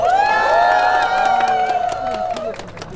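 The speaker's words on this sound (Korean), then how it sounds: "큰 박수 부탁드립니다" A large crowd at a political rally roars with loud cheering and shouting, a sustained swell of voices that slowly fades, with claps scattered through it.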